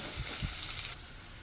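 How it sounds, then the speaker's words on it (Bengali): Chopped garlic and onion fry in a pan, giving a short, faint, steady sizzle with a couple of soft stirring bumps. "রসুনের কুচিটাও পেঁয়াজের সঙ্গে ভাজতে থাকবো।"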